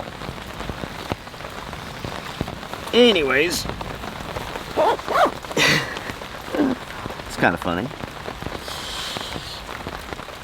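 Heavy rain pounds steadily on surfaces during a thunderstorm, with flooding nearby, a dense continuous hiss throughout while someone talks intermittently over it.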